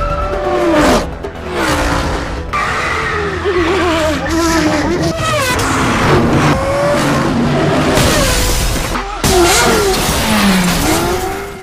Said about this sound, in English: we are presented with a very thrilling sports car chase scene between Lion's team and Bill's men